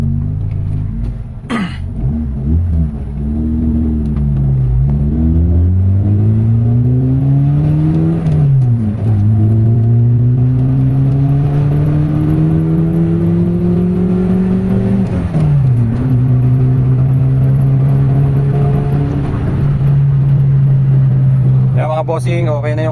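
A Mitsubishi Lancer GLXi, just repaired after idle trouble and misfiring, drives on a test run with its engine clearly audible throughout, rising in pitch through several gears with a drop at each shift, loud and steady under the cabin hum.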